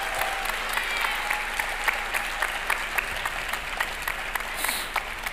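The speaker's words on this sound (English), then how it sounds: "Let's have a big round of applause for you guys." Live audience at a League of Legends ten-year anniversary stream event in Europe applauding, a fairly faint, steady wash of clapping with distinct individual claps, continuous for several seconds.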